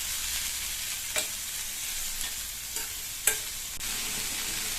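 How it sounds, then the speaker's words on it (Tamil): Sliced snake gourd sizzles in an oiled pan, a soft continuous fry broken by a few sharp clicks and scrapes of a spoon stirring, close and without talk. "கட் பண்ணி வச்ச புடலங்காயை இதில் சேர்த்துட்டு நல்லா ஒரு தடவை இந்த மாதிரி கலந்து விட்டுட்டு"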